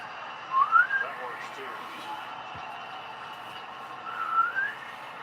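A person whistles short rising notes twice, a few seconds apart, faint over quiet background noise.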